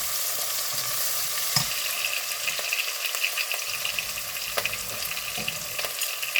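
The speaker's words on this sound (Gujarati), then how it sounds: "બરાબર આપણે હલાવીશું।" Ingredients for chickpea pulao fry in a pan while a spoon stirs them, giving a steady sizzle broken by scattered scrapes and clicks against the metal. It is close and continuous, with no talking.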